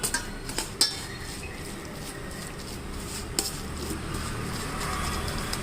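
A spoon stirs a sweet corn and egg mixture in a bowl, giving a few clinks of metal on the dish early on, then a steady soft scraping with no talk.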